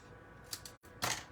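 Scissors trim a paper card in a few quick, faint snips, with a short pause between cuts in a quiet room.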